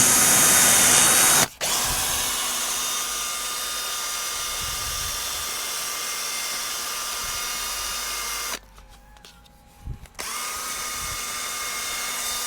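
A high-torque power drill runs in a steady, loud, whining drone up close, cutting out briefly near the start and again for a longer pause before spinning back up.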